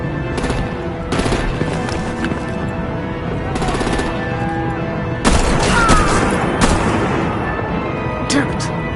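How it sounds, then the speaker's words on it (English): Artillery and gunfire in Batman: The Enemy Within, bursts of heavy firing and booms across a loud action scene, with a voice speaking over the noise. "Break out the artillery and disable their vehicles!"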